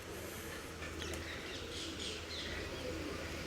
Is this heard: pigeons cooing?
yes